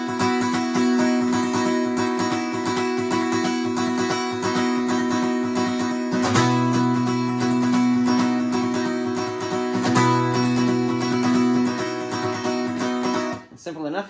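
Steady guitar strumming through a song's chord changes, with the thumb thrown over the neck to mimic a loud electric guitar, ringing continuously and close with a shift in the low notes midway.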